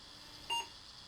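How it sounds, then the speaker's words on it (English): A single short electronic beep from an Apple II as a ProDOS disk transfer finishes, heard alone and fairly quiet against faint background hiss. "When it finishes, we expect to hear a beep and see a dialog box telling us what to do"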